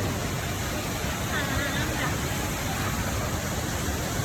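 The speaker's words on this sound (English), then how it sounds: "And there's the waterfall." The indoor waterfall at Jewel, Singapore, gives a constant broadband roar of falling water that fills the space, steady and loud with no breaks.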